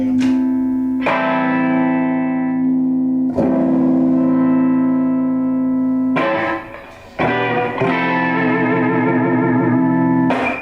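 An electric guitar with single-coil pickups and its tone control rolled off plays several ringing chords and notes, each struck and left to sustain, with a warm, softened tone and some reverb.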